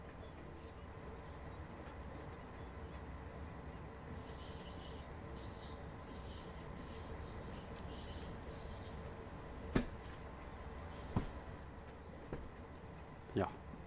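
A BR 365 diesel shunting locomotive in Train Sim World 3 coasts with power off on the Niddertalbahn, giving a steady rolling rumble with soft wheel noise and a few sharp clicks and squeaks near the end.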